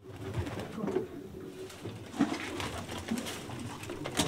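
Pigeons in a young birds' loft coo repeatedly, soft low throaty calls rising and falling at close range over a faint rustling background, with no talking.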